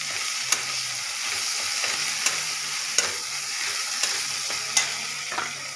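A paste of ground ginger, garlic and cumin, with a little sugar, sizzles steadily in a pan, with occasional stirring clicks and scrapes over an even frying hiss, no talking.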